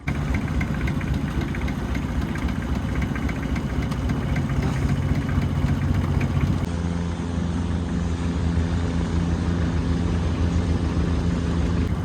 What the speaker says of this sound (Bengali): আর আমি বোট চালাচ্ছি